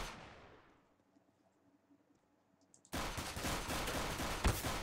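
Pistol fire in CS:GO starts with one shot fading into near silence, then a sudden loud burst of rapid, overlapping gunfire runs to the end.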